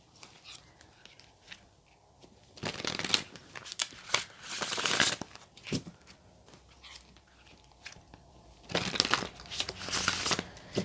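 Witch's Wisdom oracle cards being shuffled close by, with bursts of papery riffling and crinkling swelling and fading in several rounds between quieter pauses.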